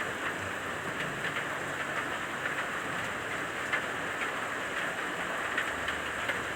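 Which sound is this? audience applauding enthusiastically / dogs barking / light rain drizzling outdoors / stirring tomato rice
light rain drizzling outdoors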